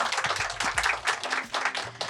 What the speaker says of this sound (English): let's just give a round of applause for everybody here.